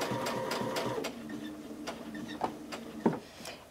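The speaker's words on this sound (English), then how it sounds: "Then I'm going to sew to the three mark." Sewing machine stitching a seam while set to thread tension three, a steady mechanical patter that runs with brief pauses and a couple of sharper clicks near the end.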